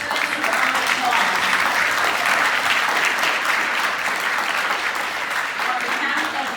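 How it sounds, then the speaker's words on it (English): Sustained applause from an audience at a Chamber of Commerce civics bee event, steady dense clapping throughout with no break, fairly close and loud. "Let's give our judges and our MC and our students a round of applause."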